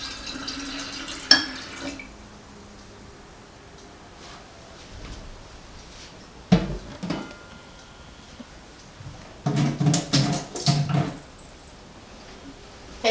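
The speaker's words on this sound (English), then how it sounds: "You pour the kombucha inside." Kombucha is poured into a jar in a quiet kitchen, a soft splash and trickle of liquid arriving in short bursts near the end, with a few clinks and taps earlier and no talking.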